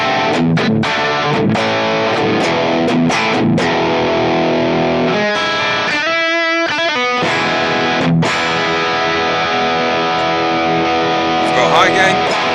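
Les Paul electric guitar played through a medium-gain Plexi/Brit stack amp model on a BOSS GT-1000, reverb off: distorted chords and riffs ring out loud and close, with sustained notes, short pauses and fresh attacks.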